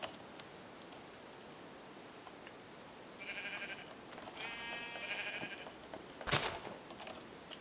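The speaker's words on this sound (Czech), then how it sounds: "Vezmeme si nějaké ovce." Several synthetic Minecraft sheep bleats, short and bright, sound in quick succession against quiet ambience, followed by a sharp click.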